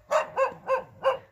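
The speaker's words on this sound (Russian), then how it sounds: "Вишня, Кавказская овчарка." A Caucasian shepherd dog, also called an alabai, gives four evenly spaced, strong barks close by at a night-time New Year gathering.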